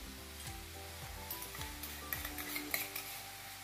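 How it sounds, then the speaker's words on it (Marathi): Soy sauce hitting a hot pan of frying Chinese cabbage, a crackling sizzle with light clinks of utensils against the pan, heard under steady background music. "आपण याच्यात टाकून घेऊया सॉस, सगळ्यात आधी सोया सॉस टाकलेला आहे"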